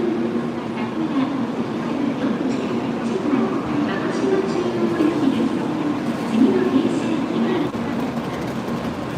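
Shinkansen bullet train at the Hakata Station platform in Fukuoka. A steady rumble of wheels and motors comes from close by, with faint crowd murmur and station noise underneath.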